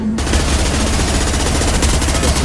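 Sustained rapid automatic gunfire from a Mass Effect 2 firefight, a dense continuous rattle of shots running loud and steady throughout with no pauses.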